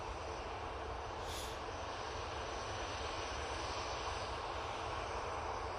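An easyJet Airbus A320ceo jet departs Manchester Airport for the Isle of Man, its engines giving a steady, loud broadband roar that holds without a break throughout.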